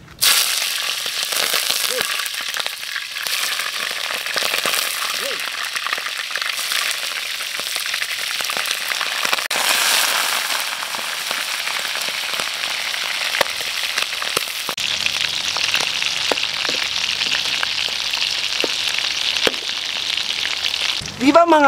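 Chicken liver fries in a hot pan for sisig, giving a loud, dense crackle and sizzle that runs steadily throughout, with occasional sharper pops and utensil scrapes.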